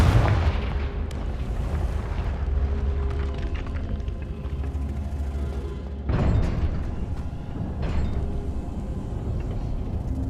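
Repeated heavy booms from a Confringo fire spell in the Hogwarts Legacy game, a dense rumbling barrage with two sharper blasts near the end, loud and continuous with no talk.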